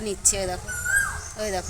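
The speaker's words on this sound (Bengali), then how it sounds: "আর ওই যে ডাকছে কুকুর, ওই দেখো ডাকছে" A dog calls out nearby in short yelping, whimpering cries with one drawn-out tonal note in the middle, partly overlapped by a person talking.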